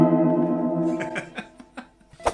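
Guitar chord through a cheap shimmer reverb pedal, fading into a washy, shimmering reverb tail, followed by a few sparse plucked notes with echoing decay.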